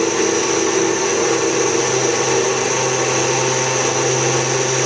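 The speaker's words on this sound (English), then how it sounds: "Look, the mixer is also running well." An Indian mixer grinder grinding wheat into flour runs loud and close with a steady high motor whine and a grinding rumble, unbroken for the whole stretch.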